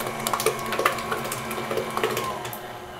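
An electric mixer whirs through pecan pie filling made with corn syrup, a steady close mechanical hum broken by small rattling clicks, with no talking.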